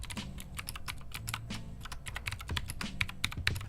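Someone types steadily on an unusual Bluetooth keyboard with clacky switches, producing a rapid, close patter of sharp, bright key clacks in an uneven rhythm.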